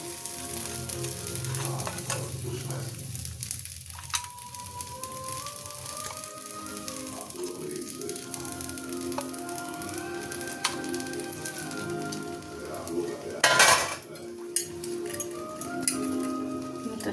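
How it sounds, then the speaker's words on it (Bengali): Fish pieces slip into boiling curry gravy, which sizzles and bubbles steadily throughout, with occasional clinks and a brief louder spatter near the end, close up and without talking. "ফুটে গেছে, আস্তে আস্তে মাছগুলো দিয়ে দিচ্ছি"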